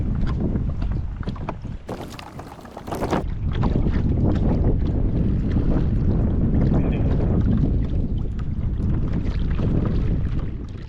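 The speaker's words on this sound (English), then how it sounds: "I was feeling every bit of that 14 mile per hour wind" Strong gusts of about 14 mph buffet a Pelican Catch Kicker 110HDII fishing kayak on open water. Steady, loud wind roar beats on the microphone throughout, with one harsher burst of noise early on. No one speaks.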